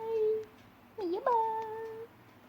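A house cat meowing nearby: one drawn-out meow, then a pause and a longer wavering two-part meow, clear and moderately loud in a quiet room.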